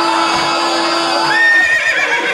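A person imitates a horse neigh with a loud, sustained whinnying cry on stage at a comedy show, the voice wavering and rising near the end.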